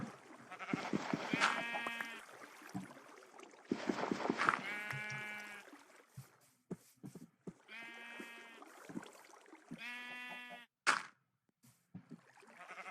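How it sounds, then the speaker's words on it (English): Sheep in the video game Minecraft bleat several times in short, tonal, wavering calls, spaced apart and fairly clear against an otherwise quiet background with a few soft clicks. "There's another sheep."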